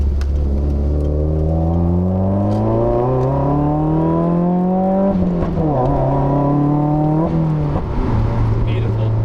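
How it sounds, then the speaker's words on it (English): A 2015 Subaru WRX pulls hard in second gear to redline, engine note climbing steadily in a loud, close drone, with brief dips at the gear changes and the revs settling afterward. "start things off with the second gear pull to redline"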